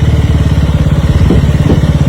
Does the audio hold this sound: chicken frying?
no